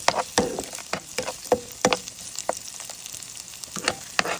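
Panch phoron, dried chillies and bay leaves crackle in hot oil as a tempering for pumpkin soup, giving a soft continuous sizzle broken by sharp pops and intermittent stirring clicks, close and moderately quiet.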